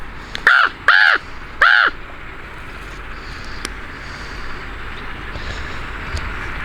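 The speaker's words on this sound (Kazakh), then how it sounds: "Қарға." Three loud, close crow caws come in quick succession near the start, each a harsh nasal call, followed by quiet outdoor ambience with no further calls.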